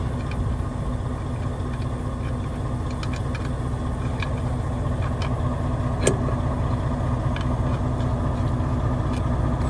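A Freightliner truck engine idles with a steady, low diesel rumble that holds constant throughout, close by, with faint clicks and small knocks over it.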